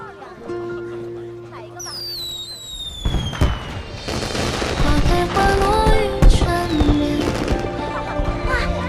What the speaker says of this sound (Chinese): 是花神节的烟花